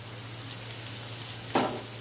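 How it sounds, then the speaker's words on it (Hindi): Chopped onion, tomato and garlic sauté in a pan with a steady, soft sizzle. A brief louder hiss flares up near the end, as if the contents are stirred. "ये तीनों को हम अच्छे से सौते करेंगे।"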